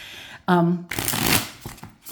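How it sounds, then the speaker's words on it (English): Artisan playing cards with rounded edges being shuffled close up: a quick riffle burst followed by a longer crisp flutter of cards, with a voice briefly heard beside it. "But look at how it shuffles."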